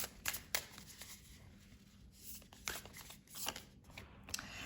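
A deck of oracle cards is shuffled by hand during a tarot reading, giving repeated quick riffling bursts and soft flutters across the whole stretch, close and fairly quiet, with no talking.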